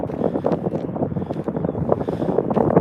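Strong outdoor wind buffets the microphone throughout, making a steady, loud, low rumbling roar with fluctuating gusts and no clear speech.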